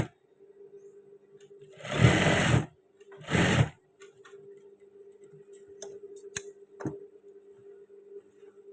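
Two short bursts of a sewing machine stitching trousers, the first about a second long and the second shorter, separated by quiet, with a faint hum and scattered light clicks of handling afterward.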